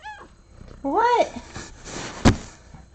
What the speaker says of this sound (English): What is all this meowing?